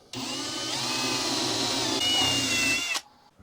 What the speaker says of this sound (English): It says to use a 1/2 inch drill bit. That's what I've put into it, and I'm going to go ahead and drill it here.